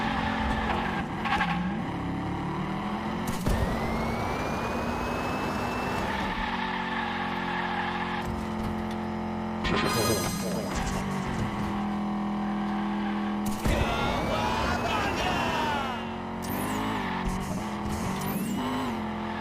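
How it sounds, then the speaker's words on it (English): Toy cars race through turns in the Hot Wheels Unleashed video game, with engines revving and shifting pitch, tires squealing and skidding in repeated bursts, loud and continuous without speech. "This is a game that just invites you to throw your car into the turn."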